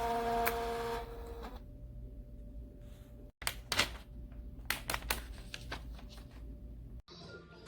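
A Phomemo M08F thermal portable A4 printer at work, with a brief whirring feed, a thin sustained motor whine, then a cluster of clicks and clacks close by, all fairly quiet.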